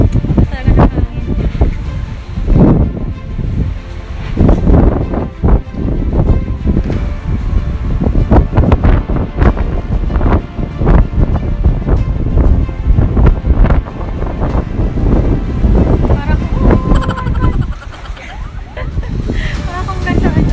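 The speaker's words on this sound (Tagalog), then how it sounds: "Talaga ng hangin." Strong typhoon winds roar across a third-floor rooftop in Cavite, loud and gusting hard with heavy buffeting on the microphone, while a person talks faintly underneath.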